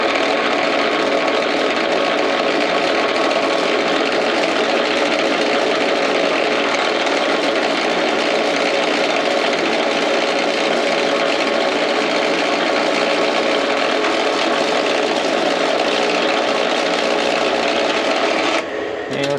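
A lathe parts off copper round bar at 210 RPM, giving a steady, loud, continuous broadband machining whir that holds unchanged throughout before a slight shift at the very end.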